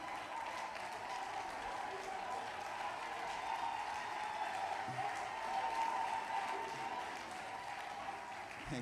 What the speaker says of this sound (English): Please, let's clap for her as she makes her way to the stage.